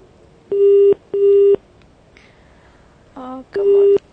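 Telephone ringing tone, a steady electronic burble repeating in short bursts with pauses between, clear and close, alongside brief other tones.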